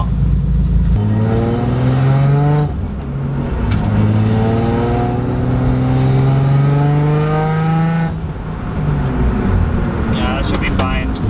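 A Nissan G35/350Z with new budget brakes drives along, its engine droning and rising and falling in pitch with a scraping noise from a brake backing plate. People talk over it throughout, and the sound stays loud and close.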